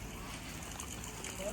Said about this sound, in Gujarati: આ મંદિરમાંથી છે ને પાણી નીકળે છે આવી રીતે.